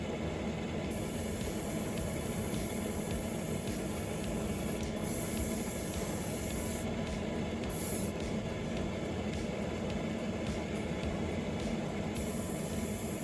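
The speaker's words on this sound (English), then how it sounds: "I'm spraying very liberal wet coats, just making sure it's all nice and uniform" Steady airbrush hiss from a Gaahleri Turbox Mini portable compressor setup laying down liberal wet coats of paint, a continuous close broadband spray with no talk over it.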